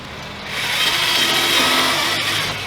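A power drill whirs continuously at close range, bearing steadily into a plastic front bumper lip for a BMW F10 535i M Sport for a few seconds.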